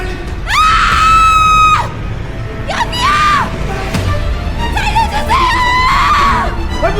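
A woman screams for help during a violent struggle, three loud, high, drawn-out cries in a row, the first longest, with scuffling noise underneath.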